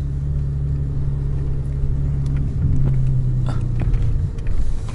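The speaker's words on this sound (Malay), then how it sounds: "Ni keretanya nak merasa Audi GTO 5 speed 4 wheel drive turbo" Audi GTO with a turbocharged engine, five-speed gearbox and four-wheel drive in the iRacing sim, a steady low rumbling drone with a slight rise in pitch midway, continuous and close with no talking.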